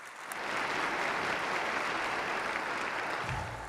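Audience at a mayoral inaugural ceremony in a theater applauds a San Jose police pipe band, a dense, sustained clapping that swells quickly and holds steady before fading slightly at the end.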